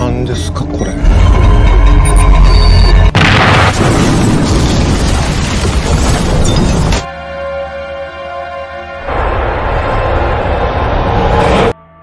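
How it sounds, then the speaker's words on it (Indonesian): A bomb explodes on a Shinkansen bullet train in a film: a loud, sustained blast roars with dense rumbling noise, followed by crackling debris and a shifting tonal drone as the roar continues for several seconds. "Akhirnya meledak."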